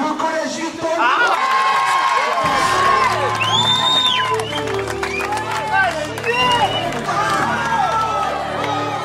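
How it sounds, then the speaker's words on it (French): Crowd at a French middle school cheering for the school after a silver medal in a regional academy championship: loud, continuous clapping with children shouting, whoops and excited voices throughout. "On applaudit très fort le collège Victor Hugo."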